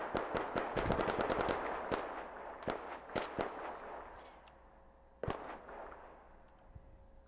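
Rapid automatic gunfire from the ARMA video game, with dense bursts at first, then scattered single shots and a sharp late crack over a low steady hum.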